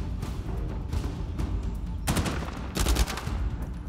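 Rapid bursts of gunfire in the video game Uncharted 4, loud and close, with two heavier volleys late in the clip over a busy game background.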